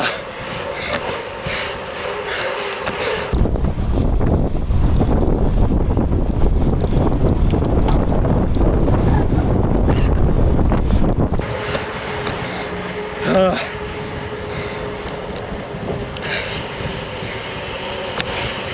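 Strong wind roars across the microphone during a bike ride on a cycle path, a heavy continuous buffeting that surges loudest through the middle and eases off toward the end.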